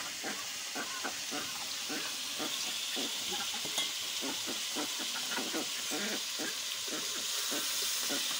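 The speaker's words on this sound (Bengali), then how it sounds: "মশলাগুলোর সঙ্গে মাংসটা সুন্দর করে ভেজে নিচ্ছিল" Duck meat fries with spices on a clay wood-fired stove, a steady broadband sizzle and hiss with repeated scraping stirs in an uneven rhythm, close and fairly loud throughout.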